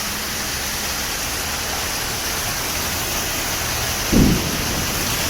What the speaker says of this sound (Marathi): ढगफुटींचा आवाज घ्या डबल